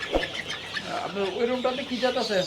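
Chickens on an integrated poultry farm cluck and warble in a rising, repeated chatter close by, with a voice speaking at moments underneath.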